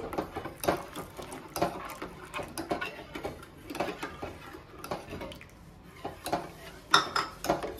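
Custard powder mixed into milk being stirred in a pan over a low flame, a spoon clinking and scraping against the metal in an irregular, steady rhythm at close range, with no talking.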